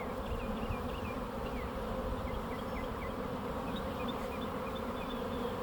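A dense, continuous hum of a honeybee swarm buzzing together, steady and close, with faint higher chirps of birds scattered over it.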